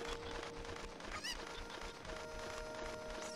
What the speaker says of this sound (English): What was the chicken doing in the box?